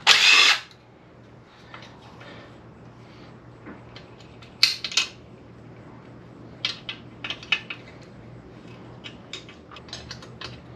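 A power tool undoes bolts on a 1979 Kawasaki KZ650D SR motorcycle during a teardown: one loud, short burst at the start, then scattered ratcheting clicks and metallic knocks.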